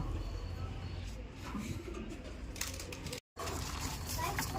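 Pigeons coo from nesting boxes as they are paired and fed grain, a steady, close, murmuring chorus over constant rustling, with a brief dropout partway through.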